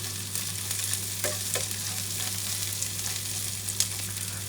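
Onions sautéing in a pan for a patola and misua dish, a soft continuous sizzle with occasional scrapes and stirring taps, fairly quiet and close, with a steady low electrical hum underneath.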